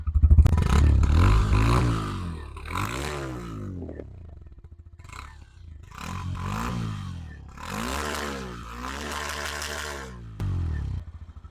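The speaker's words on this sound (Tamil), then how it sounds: "எக்ஸாஸ்ட் நோட் எப்படி இருக்குன்னு பார்க்கலாம்" A 2025 Hero Glamour X 125cc motorcycle engine revs up and down several times close by, its exhaust note rising and falling between short idle pauses.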